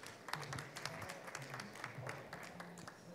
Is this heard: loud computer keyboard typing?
no